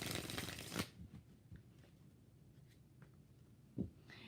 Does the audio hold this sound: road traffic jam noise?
no